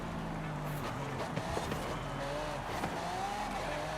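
A supercharged 8.2 liter V8 car engine in a racing video game hums steadily at low volume, with faint tire and gear-shift blips scattered through it.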